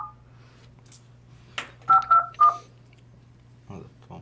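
Phone dialing tones sound during a live show: a few short beeps in quick succession over a low steady hum, with brief background voices and clatter.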